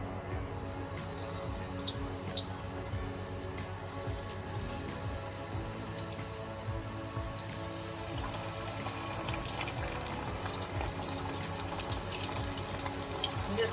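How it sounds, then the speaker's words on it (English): Vegan drumsticks deep fry in hot oil with a steady, dense crackle and sizzle throughout, close and even in level, with no voices. "Now I'm just going to deep fry it with some hot oil."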